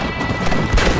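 Horse hooves clopping in the Western game Red Dead Redemption, a quick burst of loud, close hoofbeats lasting about a second, dense and thumping.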